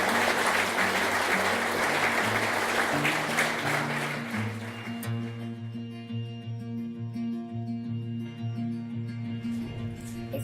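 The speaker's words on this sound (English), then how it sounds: "I think that deserves a big round of applause." A wedding crowd claps warmly for a few seconds, then the applause fades as music with sustained tones takes over.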